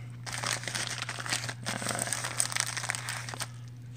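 A mailed package of baseball card packs from an online purchase being torn open, heard as close, continuous crinkling and crackling of plastic and paper packaging in busy bursts, with no talking.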